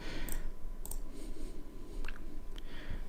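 Faint, sparse computer mouse clicks, a few single and double taps spread over a quiet background while working in Airtable.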